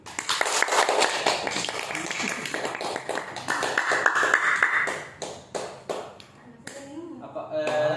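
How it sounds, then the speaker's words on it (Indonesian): A high school sociology class claps for all the student groups, a dense burst of many hands that thins out into scattered claps, with voices talking over it. "Untuk itu kita beri aplaus dulu kepada seluruh kelompok"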